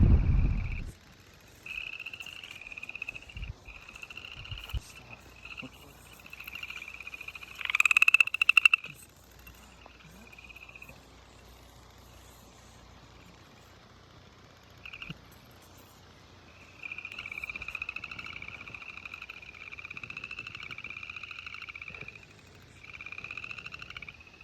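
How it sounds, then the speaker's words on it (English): Tiny frogs croak at night in a burnt forest, a chorus of repeated trilling calls that comes in bursts and pauses, fairly faint and distant, with a brief louder close call near the middle. "there were the sounds of all the frogs croaking all night, and it went on for hours"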